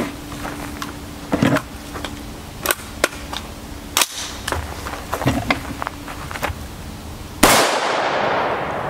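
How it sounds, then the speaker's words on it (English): Rifle rounds in .308 and .556 are fired at a frozen steel armor plate, with sharp, separate shots and metallic impacts at irregular intervals, ending in a loud burst that hisses away. "I load up six more rounds of .308 and six more rounds of .556, and we'll just pelt it a few times"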